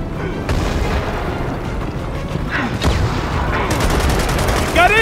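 Battle sounds from the Gears of War 4 video game: a dense, continuous fusillade of gunfire with heavy booms and explosions, loud and close throughout, with shouting voices mixed in.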